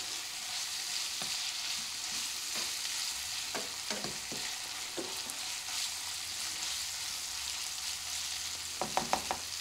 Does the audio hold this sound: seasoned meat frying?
yes